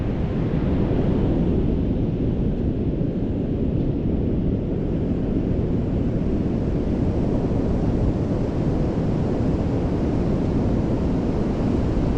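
Large ocean waves crash and surge against a rocky shore under hazardous sea conditions at sunset, a loud, continuous roar of surf with wind buffeting the microphone throughout.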